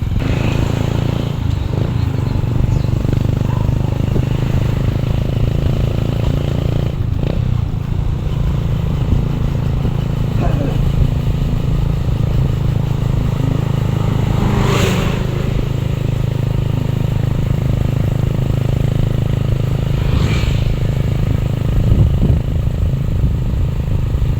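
A motorcycle rides steadily toward a repair shop, its engine a constant close drone with occasional rattles and brief revs throughout, no talking.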